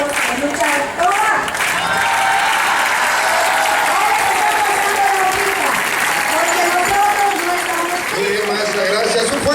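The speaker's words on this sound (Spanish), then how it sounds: "un fuerte aplauso" Loud, sustained applause and cheering from a crowd at a teachers' movement rally in Valladolid, steady and dense throughout with shouting voices mixed in.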